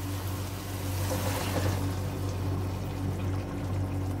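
Water pours steadily into a pot of chickpea pulao with a continuous splashing rush, over a low constant hum in the background.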